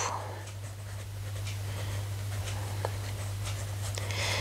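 A pen scratches across paper in intuitive handwriting, faint and continuous close scribbling over a low steady hum, with no talk.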